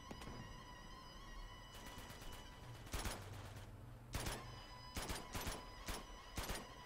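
Gunfire in Uncharted 2: Among Thieves: bursts of rapid shots crack out in clusters over a faint steady background hum, with short pauses between volleys.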